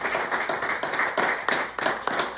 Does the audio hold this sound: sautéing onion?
no